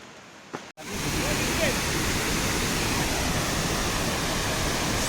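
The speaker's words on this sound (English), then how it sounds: "So this is waterfall happening" Langvoku waterfall in Assam roars as a dense, steady wash of rushing water, loud and close. It bursts in after a short quieter moment and continues unbroken to the end.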